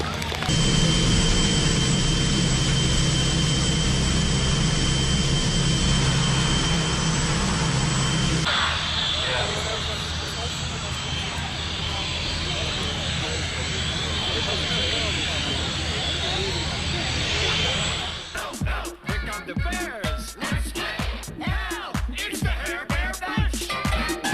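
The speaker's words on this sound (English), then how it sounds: "Tony De Bruyne in the Bronco demo team with the OV-10A" The OV-10A Bronco's engines roar loudly and steadily at an outdoor air festival demo, then fall to a lower hum before stopping, leaving choppy wind and handling noise at the end.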